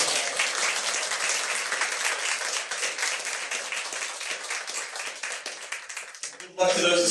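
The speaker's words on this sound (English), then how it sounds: "a big round of applause for all the students participating" An audience at a school board meeting applauds participating students, dense sustained clapping throughout, trailing off as a voice begins at the end.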